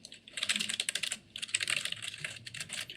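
Fast typing of code on a computer keyboard, dense clattering keystrokes in two quick runs with brief pauses, close and clear, no voices.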